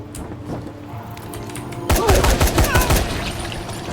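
Enemy gunfire erupts in Dying Light The Following as a sudden loud burst of rapid shots, close and sharp, after a quieter stretch of background game noise.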